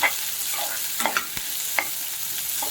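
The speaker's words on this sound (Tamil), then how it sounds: "வெங்காயம், வரமிளகாய், இஞ்சி, கருவேப்பிலை, கேரட் ஒன்று போட்டிருக்கேங்க. போட்டு தாளித்து விட்டு" Onion, dried red chili, ginger, curry leaves and carrot tempering in hot oil, giving a soft continuous sizzle broken by a few sharp clicks and taps of stirring.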